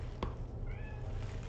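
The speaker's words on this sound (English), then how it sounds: "my cat is screaming" A cat meows outside a door, a faint distant meow heard once through a steady low room noise, with no talking.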